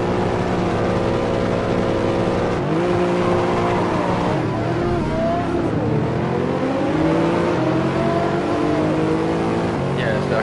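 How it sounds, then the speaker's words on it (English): Mercedes race car in Assetto Corsa accelerating around Imola, a loud, close engine howl climbing through repeated gear shifts with sharp pitch drops between them, other cars roaring nearby. "the acceleration of the Mercedes is quite amazing"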